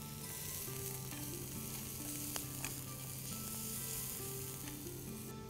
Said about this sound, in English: we're going to cook these onions on medium heat till they go nice and soft and get caramelized